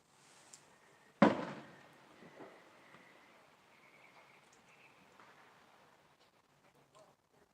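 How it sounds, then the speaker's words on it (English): A single loud boom from neighborhood fireworks at night bursts out sharply and fades into a long rumbling tail, with faint distant pops and crackles scattered afterward over quiet outdoor ambience. "What are all these big loud booms I'm hearing?"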